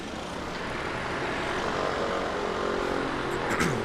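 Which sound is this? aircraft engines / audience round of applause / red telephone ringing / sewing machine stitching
aircraft engines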